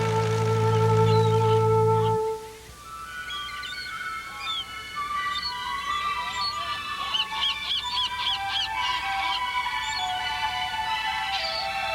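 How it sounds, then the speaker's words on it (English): Seabirds such as seagulls and puffins nesting in the rocks of a bird sanctuary on Værø, Norway, calling and chirping in a steady busy chorus at a moderate distance, after a brief stretch of a sustained tone. "a huge bird sanctuary where we find millions of seagulls, puffins, and other seabirds nesting in the rocks"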